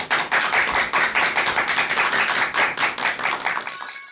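Rhythmic applause from a lecture audience, hands clapping in a steady, pulsing beat that carries on for several seconds before tapering off at the end.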